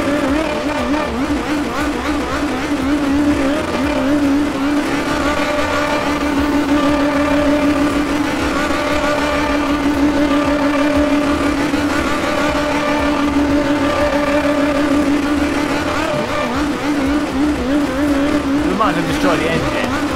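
A race car engine drones steadily in an online racing video game, a loud, continuous, smooth mechanical whine with shifting pitch and a brief spike near the end, close and unbroken throughout.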